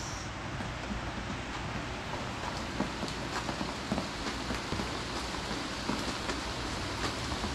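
Heavy rain falls continuously, a thick roar with sharp drops pattering on a nearby surface, no voices.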